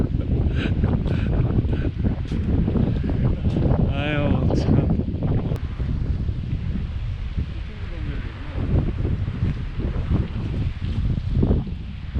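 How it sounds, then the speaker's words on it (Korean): Strong seaside wind buffets the microphone at the Hongwon harbour terrace fishing spot, a constant rough rumble with gusts swelling and easing while people talk close by. "여기 조사님 말씀하시잖아 바람이 세서"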